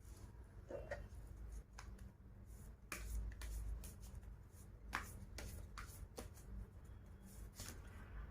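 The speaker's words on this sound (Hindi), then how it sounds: "Let me shuffle the cards for you." Tarot cards shuffled by hand in a quiet room, giving soft papery riffles and taps in short bursts over several seconds, with a few sharper slaps standing out.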